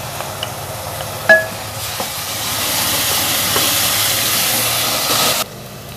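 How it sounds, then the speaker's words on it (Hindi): Garlic-ginger paste hits a pan of frying onions for moong dal, giving a steady, fairly loud hiss and sizzle that swells after a soft clink and cuts off abruptly near the end. "चंद सेकंड लहसुन अदरक को भूनने के बाद"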